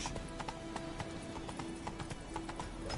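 Roach, a horse in the Witcher 3 video game, trots with steady clip-clopping hooves in a continuous rhythmic pattern, moderately loud and close, over a low ambient game background.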